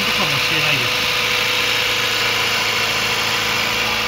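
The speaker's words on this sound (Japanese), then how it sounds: "はい、エンジンかけてみました。" A stock Honda Civic Type R EK9 engine idles steadily after starting, a continuous, even mechanical hum heard close up in the engine bay with slight vibration.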